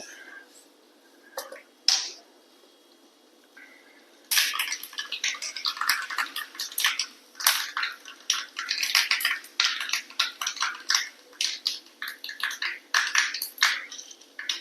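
Mustard seeds tossed into hot oil for a Kerala-style nadan rasam crackle and splutter, starting with a few isolated pops and then a dense, lively run of sharp sizzling bursts close up.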